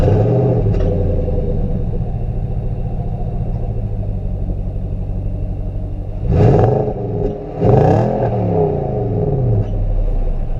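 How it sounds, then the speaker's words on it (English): A 2017 Nissan Titan pickup's V8 engine burbles steadily at low revs, then is floored twice in quick succession, each time growling up sharply before settling back to a loud idle rumble, with no talking. "got the usual big V8 burble at lower speeds, or lower RPM. When you floor it, it sounds really nice. It really gets up and growls."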